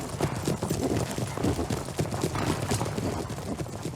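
Cavalry horses in Empire Total War, provincial cavalry under a flying banner, clopping in a dense, steady rush of hoofbeats that runs loud and continuous throughout, with an occasional faint whinny.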